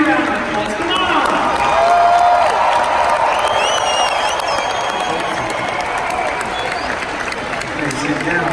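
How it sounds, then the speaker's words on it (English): A convention crowd breaks into louder applause mixed with whoops and cheering, continuous and dense throughout, while a voice speaks over the noise. "Give them a bigger round of applause."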